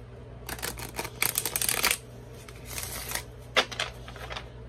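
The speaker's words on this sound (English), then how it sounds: "look how this one shuffles" A deck of cardstock mermaid-themed cards is shuffled up close, with several quick riffling bursts of crisp flapping and clicking separated by brief pauses.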